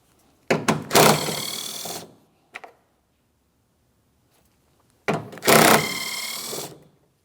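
A power tool driving out 13mm mounting bolts from a tailgate panel on a GMC Sierra 2500 HD pickup, two loud close bursts of whirring several seconds apart with a brief click between and silence around them.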